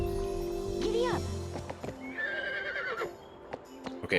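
A horse neighs loudly near the start, followed by hoofbeats, in the video game Baldur's Gate 3, set against steady background game sound.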